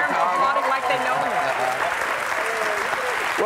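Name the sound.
applause by the host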